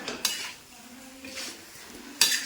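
Chicken perattu stir-fried over high heat in a pan, with a few sharp metallic scrapes and clanks of a spoon against the pan over a soft background sizzle, close and fairly quiet.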